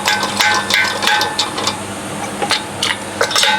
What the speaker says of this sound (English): It's called a speed wrench if anyone's asking.